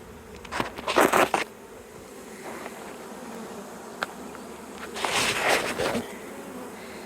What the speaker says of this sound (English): very carefully scooping up these bees